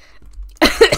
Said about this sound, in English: I coughed and fell down.